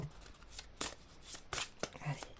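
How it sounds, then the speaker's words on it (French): Oracle cards being shuffled by hand in a quiet room, a series of soft, quick riffling bursts separated by short pauses, fairly close and low in level. "Pour tirer une carte, s'il vous plaît."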